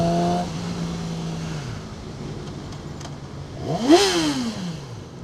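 A 2012 R6 sport motorcycle engine idles low, then revs sharply upward in a quick rising whine that peaks loudly and falls away, with wind noise throughout.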